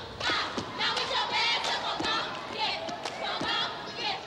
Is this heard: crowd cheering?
yes